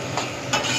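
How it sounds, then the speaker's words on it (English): Onions for fried rice sizzling in a hot pan while being stirred, with two distinct scraping stir strokes cutting through a constant frying hiss, close and clear, no voices. "the onions are half done, so we can add our rest vegetables"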